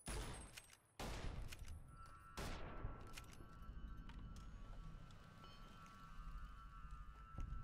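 Gunfire in the video game Fallout New Vegas: three sharp, loud shots in the opening seconds, each trailing into a ringing decay, then a steady wash of background game noise with no talking.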